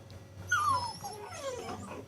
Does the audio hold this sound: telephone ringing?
no